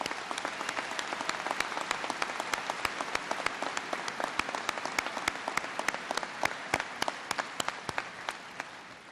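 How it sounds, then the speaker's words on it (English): A graduation audience at a community college commencement breaks into sustained applause, a dense wash of many hands with sharp individual claps standing out near the front, steady for the whole stretch before thinning slightly at the end. "let's give them a big round of applause"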